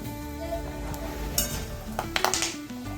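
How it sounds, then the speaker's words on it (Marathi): Peanuts sizzle and crackle steadily in hot oil in a pan, with a few sharper metallic clinks and stirring noises toward the end. "तेल छान गरम झाले की ते शेंगदाणे टाकायचे आहेत"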